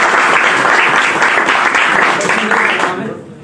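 Crowd applause at a snooker tournament prize distribution ceremony, loud and close, steady clapping for about three seconds before tapering off, with voices mixed in.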